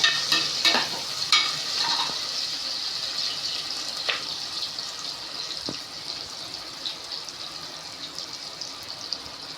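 Onions sauté in ghee with a sprinkle of salt for a mushroom biryani, giving a steady close sizzle broken by scraping stirs and a few sharp clicks of the spoon against the pan.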